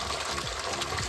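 Drinking water runs steadily from a stone gomukh spout at the Keshavraj Vishnu temple, a close, continuous gushing splash with no talk over it.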